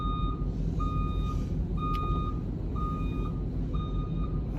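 A big truck reverses, its backup alarm sounding a series of regular high beeps, roughly one per second, over a steady low engine rumble.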